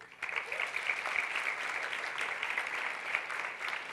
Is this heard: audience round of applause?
yes